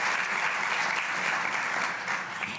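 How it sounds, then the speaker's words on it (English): Sustained applause from a regional conference audience, a dense steady wash of many hands clapping together for close to three seconds, no voices on top. "give yourselves a round of applause"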